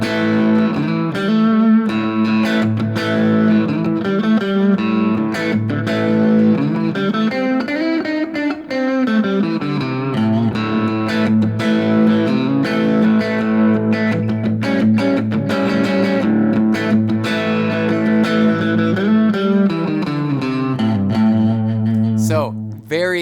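A Fender Player Stratocaster with its bridge and neck pickups together plays loud, sustained distorted chords and notes without a break.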